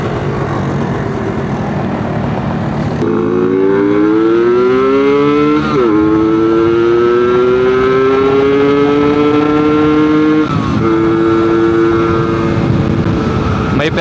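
An RXT 135 Classic motorcycle accelerates hard through the gears, its engine note rising in long loud revving sweeps with brief dips at each gear change, close and continuous.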